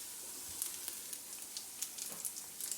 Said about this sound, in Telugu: గోల్డ్ కలర్ వచ్చే వరకు ఫ్రై చేసుకుందామండి, లైట్ గోల్డ్ కలర్